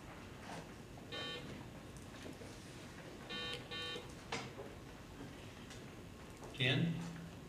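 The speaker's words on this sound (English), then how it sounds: "Emma, would you please try your light and buzzer?" A contestant's answer buzzer is tested at a state math competition countdown round, giving a few short electronic beeps and a louder final buzz in a quiet room with faint background voices.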